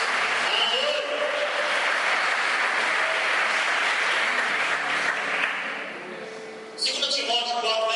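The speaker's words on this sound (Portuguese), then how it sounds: "Você pode dar uma salva de palmas para Jesus?" Sustained applause from a church congregation fills the space, loud and dense, tapering off near the end before a brief burst of voices.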